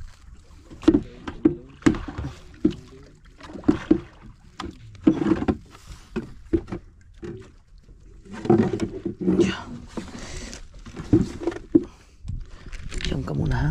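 A paddle strokes the water beside a small boat on a river, making repeated close splashes and knocks at an uneven rhythm, with people talking over it and some wind noise.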